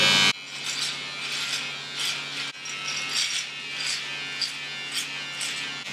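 A Panasonic ER-GD60 beard trimmer buzzes steadily up close after switching on with a click, its tone rising and dipping in rhythmic strokes as it cuts through facial hair, alone without talk.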